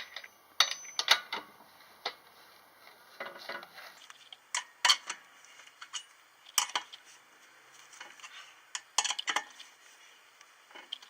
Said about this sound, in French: La seule chose qui reste, c'est revisser les écrous correctement.